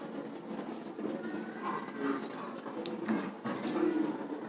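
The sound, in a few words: writing with pen while solving math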